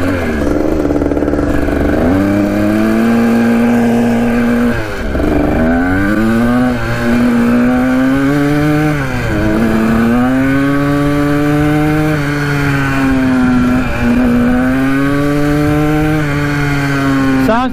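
A Kawasaki dirt bike engine running lean on a road, loud and close, droning with repeated revs that climb and settle again throughout.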